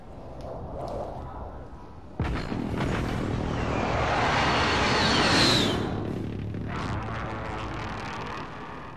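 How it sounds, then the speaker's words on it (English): Precision airstrike explosions in a battle royale video game: a sudden heavy blast roars in after a quieter stretch, then swells into a sustained, rumbling barrage that peaks and slowly tails off, loud and close. "Enemy precision airstrike."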